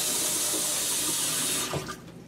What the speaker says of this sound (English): Let's get this hot water here to work.